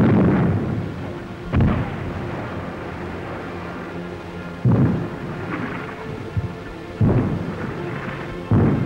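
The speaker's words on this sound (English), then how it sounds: "Artillerie legt das Feuer vor." Heavy artillery fire from a WWII-era German barrage, heard as four deep booming blasts spaced a few seconds apart, each with a rolling rumble that hangs between shots, with no voices.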